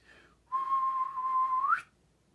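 A single steady whistled note held for over a second, rising sharply at the end, clear and close with a quiet background.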